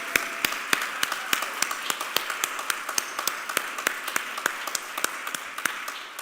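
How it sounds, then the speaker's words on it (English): A church congregation applauds two board members during a Sunday worship service, a thin scattering of distinct, evenly spaced hand claps from a modest crowd, moderately near and steady throughout. "If I could get just a really big round of applause for those 2 members."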